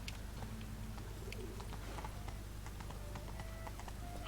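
Galloping hooves of Roach, Geralt's horse in The Witcher 3, beat in a steady clip-clop rhythm under a bed of game ambience with birds cooing and calling.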